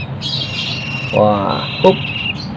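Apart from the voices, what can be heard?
hand-fed Javan banded pitta chick squawking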